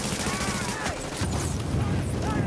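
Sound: grenade explosion in The Division video game

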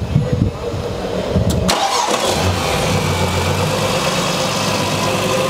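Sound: Nissan Patrol turbo-converted engine running

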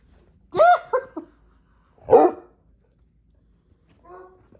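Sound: dog growling and barking

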